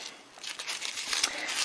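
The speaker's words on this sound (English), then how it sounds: "we're going to take it and just crumple it up." Soft crinkling and rustling of thin crepe paper streamer being crumpled by hand, close and fairly quiet, building slightly over a couple of seconds.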